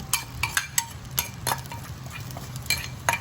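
A utensil stirs chili paste of pounded roasted shallot, garlic and chili with reduced coconut cream in a pan, scraping and clinking in an irregular rhythm close by over a soft background, with no talking.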